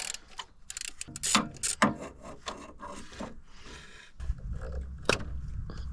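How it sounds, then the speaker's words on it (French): A ratchet with a 13 mm socket works on the alternator of a Ford Fiesta, giving close, loud bursts of clicking and metallic rattling in irregular spurts, with occasional scraping and knocks between them. "Donc une douille de 13, un cliquet."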